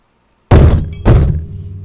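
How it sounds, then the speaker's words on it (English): Two heavy thuds of something banging on an old, moldy wooden door, close and loud, each hit followed by a short booming decay, about half a second apart with no voices. "just banging on the old moldy wood that is that door"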